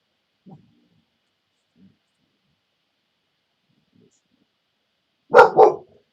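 A pet dog indoors gives a quick double bark near the end, loud and close, after a long near-silent stretch with only a couple of faint soft sounds.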